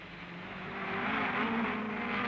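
A 1960s racing Ferrari and Lotus roar past in a British GT and sports car race, engine note rising and swelling steadily as the cars draw nearer, no voices.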